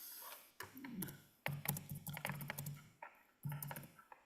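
Bursts of rapid clicking keystrokes on a computer keyboard, close and clear, broken by brief pauses between typing runs.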